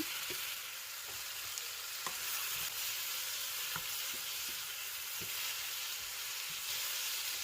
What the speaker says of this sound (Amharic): ቲማቲሙን 1-2 ደቂቃ እንጠብሳለን።